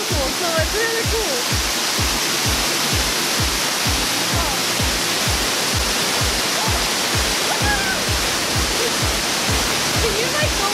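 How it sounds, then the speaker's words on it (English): A waterfall in Akita, Japan, heard up close, pours with a dense, steady roar of crashing water, while a rhythmic low thumping beat pulses underneath throughout. "This is the best place to see the waterfall because we're just so close"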